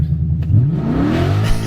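A Ford car accelerating hard with the throttle floored, engine note sweeping steadily upward in pitch as it revs, loud and close with no talk over it.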